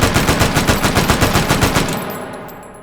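Rapid fully automatic fire from a heavy-recoil Vector .45 in the video game H3VR, a loud close burst of about fifteen evenly spaced shots lasting two seconds, then a fading echo tail.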